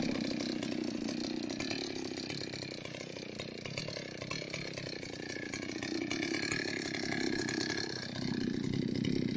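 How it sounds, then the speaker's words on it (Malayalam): A chainsaw cutting a large tree runs continuously at a steady, moderately distant drone with slight pitch shifts as the engine loads and revs, with no voices. "ഇനിയും ഞാൻ നിങ്ങളെ കാണിക്കാൻ പോകുന്നത് വലിയൊരു മരം കുറിക്കാൻ പോകുന്നു"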